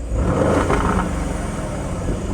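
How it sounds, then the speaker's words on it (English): A tuned exotic sports car engine with a pops-and-crackle tune revs hard nearby, a loud sustained growl with rattly texture, briefly climbing then holding steady. "Check out how this car sounds."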